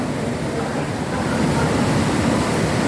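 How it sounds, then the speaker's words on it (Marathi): Foaming waterfall pouring behind a small temple at Kondeshwar near Badlapur, a steady broadband roar of rushing water that swells slightly louder midway and continues without pause. "मंदिराच्या मागून फेसाळणारा धबधबा किती सुंदर वाहत आहे पहा"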